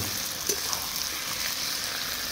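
Tomatoes and green chillies sautéing in a pan for a sea fish curry, a steady close sizzle with crackling oil and a few faint stirring scrapes, no voices.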